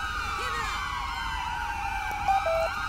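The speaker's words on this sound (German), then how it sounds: "Muss mal kurz die Sirene ausschalten." A police car siren in GTA 5 wails steadily, rising and falling in a continuous electronic tone, loud and close, with no other sounds.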